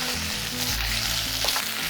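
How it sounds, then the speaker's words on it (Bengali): A yogurt and spice mixture sautés in a pan over a low flame, giving a steady soft sizzle with faint scraping of stirring, close and continuous. "এরপরে গ্যাসটাকে লো ফ্লেমে রেখে এটাকে কষিয়ে নিতে হবে।"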